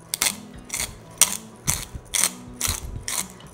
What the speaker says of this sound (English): So I'm just gonna grind about 4 tablespoons into this mortar and pestle.